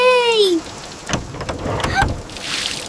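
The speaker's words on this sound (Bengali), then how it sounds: "বৃষ্টি!" Rain falls in a steady hiss and patter with scattered sharper drops. A brief high voice exclaims at the start.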